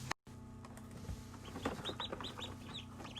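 Small, high peeps from newly hatched ducklings in an incubator chirp repeatedly and softly over a low steady hum, with a few faint clucking sounds mixed in.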